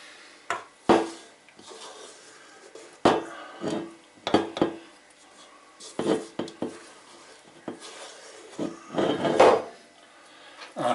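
Bread dough for soft white rolls worked by hand on a surface, with irregular soft thumps, pushes and rubbing scrapes in uneven bursts, fairly close, no talking.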